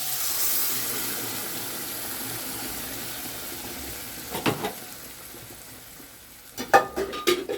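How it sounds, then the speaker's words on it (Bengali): Boiled bottle gourd with red and yellow lentil dal is tipped into hot fried spices for sambar-style dal, making a steady sizzle under stirring, with sharper clattering pot-and-spoon bursts near the middle and again at the end. "আমার এই যে লাউ আর মুসুর ডাল মুগ ডাল দিয়ে সিদ্ধ করেছি, এটা আবার আমি দিয়ে দিচ্ছি"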